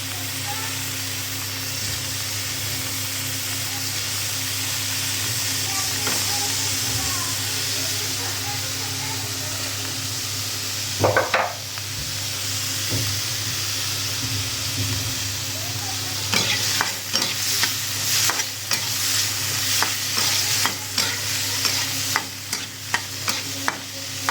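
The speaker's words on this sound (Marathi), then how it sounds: "आता हे सगळं ह्याच्यामध्ये टाकून फ्राय करून घेणार आहे" Paneer pieces stir-fried in a generous amount of oil in a pan at home, giving a steady close sizzle and hiss throughout, with utensil scrapes and stirring clatter toward the end; someone talks over it at times.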